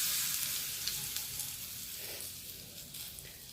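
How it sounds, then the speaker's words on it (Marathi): Mustard seeds splutter in hot oil for a tempering, a soft steady sizzle with scattered light pops that slowly fades, fairly quiet and with no talking. "फोडणी छान तडतडली."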